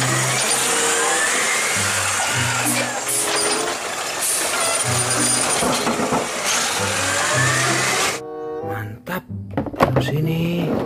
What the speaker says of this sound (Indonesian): Wow, mobil pengangkut sampah.